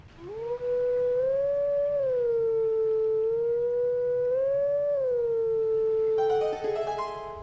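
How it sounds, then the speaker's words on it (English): An odd-looking Howling Stone in Twilight Princess sounds Zelda's Lullaby as one loud, sustained wailing tone that slides slowly up and down like a howl, with a brief chime of notes at the end. "we're kind of hearing Zelda's lullaby here on this odd-looking Howling Stone"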